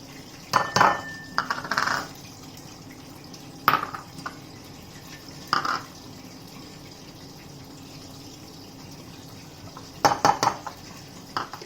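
Spice powders are mixed into chicken biryani in a pressure cooker, with scattered clinks and scrapes of a metal spoon against the pot in short bursts between quiet stretches.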